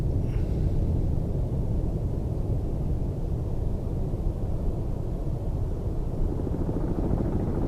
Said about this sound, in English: I hear the helicopter go by overhead